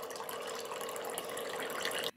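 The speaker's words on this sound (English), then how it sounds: "Water will start flowing directly as soon as you press the button." Water runs from a DrinkPod 900 dispenser at room temperature mode in a steady, faint splashing stream that cuts off sharply at the end, with no voices.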